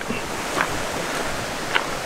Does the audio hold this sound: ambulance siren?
no